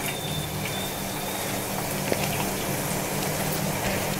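Onion pakodas deep-frying in hot oil give a steady, dense crackling sizzle, even and close, with no break through the clip.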